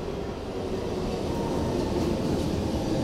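A Helsinki metro train rumbles through the station, giving a steady, broad roar that holds evenly for a few seconds with no voices over it.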